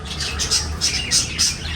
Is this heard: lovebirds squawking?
yes